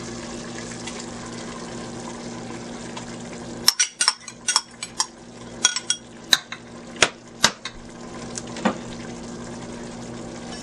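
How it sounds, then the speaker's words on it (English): Red and green peppers dropped into a hot pan with browned steak, setting off a loud burst of sizzling with clattering pieces and scattered sharp clicks over the steady frying hiss. "now you're gonna drop all your vegetables in."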